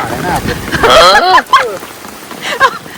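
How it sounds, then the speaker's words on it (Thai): Rain patters down on a family campsite with tents in Saraburi, a steady wash of drops under a woman's excited speech, fairly close and moderately loud. "โอ้โห โดนฝนกันแบบ สะใจกันไปเลย"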